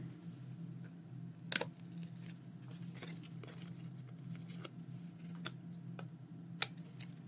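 Scissors trimming paper for a small memory-keeping journal make quiet, sparse snips and clicks at irregular intervals over a low steady background hum, with no talking.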